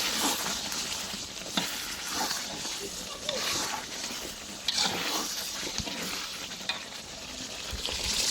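Meat being sautéed and stirred in an oily pan, giving a steady broadband sizzle with scraping stir strokes throughout, while a voice talks over the cooking.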